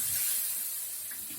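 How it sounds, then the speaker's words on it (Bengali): Water poured into a cooking pot for spinach (palong shaak), a steady close hiss and splash lasting about a second and a half with no voices. "জল ঢেলে দেবো"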